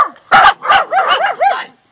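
A small dog barks close by, five quick sharp yips in a row, loud and alone, then silence.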